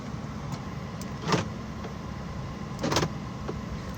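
The central locking on a 2008 Mercedes-Benz S350 W221 actuates twice with brief mechanical whirring clunks about a second and a half apart, heard close inside the car over a steady low hum.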